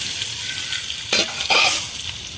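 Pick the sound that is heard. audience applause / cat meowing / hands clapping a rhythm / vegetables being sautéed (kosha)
vegetables being sautéed (kosha)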